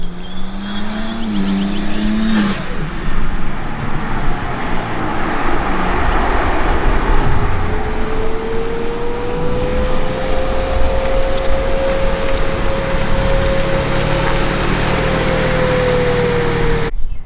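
A BMW G80 with front mount intakes revs up loudly, its turbo spool rising into a long, steady whistle that holds over a roaring exhaust for many seconds, close by with no talking.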